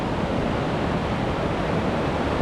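A mountain river rushes loudly beneath a footbridge on the Everest trek in Nepal, a dense, unbroken roar of churning water that fills the whole scene with no voices.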